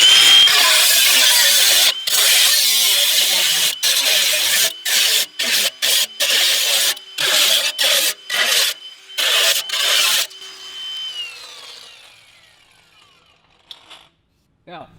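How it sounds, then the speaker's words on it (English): An angle grinder works on a BMW E63 during a big brake upgrade, a loud broadband whine in repeated bursts with brief cuts between, then spinning down and fading near the end. "And a grinder thing,"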